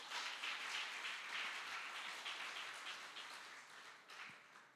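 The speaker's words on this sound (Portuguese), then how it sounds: "E você aplaude ao Senhor Jesus." A church congregation applauds, a soft, dense wash of many hands clapping steadily, heard faintly at a distance with no talk over it.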